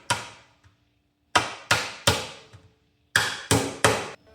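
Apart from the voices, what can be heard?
hammering tiny tacks to nail leather onto a Viking shield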